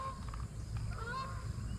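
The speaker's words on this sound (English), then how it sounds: "Get out of here, geese. Y'all ain't gonna land on that pond." Geese honking over a drained pond, several faint, wavering calls spread across a couple of seconds at a distance, under low background rumble.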